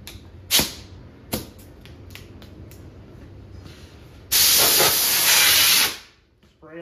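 Compressed air blasts dust out of the T-molding groove of a Journey arcade cabinet under restoration: a couple of short sharp hisses, then a long loud continuous spray lasting about a second and a half before cutting off.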